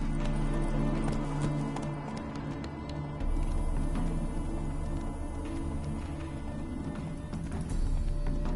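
The horse Roach's hooves clip-clop in The Witcher 3, a steady run of quiet, even hoofbeats over a low game soundscape, with no talking.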